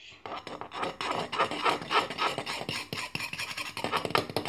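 A black-inked slime mixture is stirred in a container, making a continuous scraping, rubbing rasp with rapid repeated strokes, close and moderately loud.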